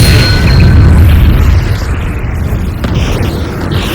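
Confringo and Incendio spell explosions in Hogwarts Legacy produce loud, deep booming blasts with a rumbling low-end tail that slowly fades, close and alone with no talk.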